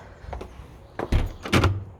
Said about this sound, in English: Door closes fine with no problems.